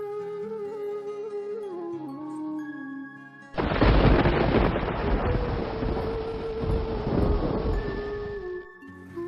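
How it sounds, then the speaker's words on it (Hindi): A thunder effect behind a Hindi narrated story: a sudden deep rumbling roll swells in over background music and holds for several seconds, loud and broad, then cuts off. "रह रहकर आसमान में बिजली चमकती और बादल गरजते"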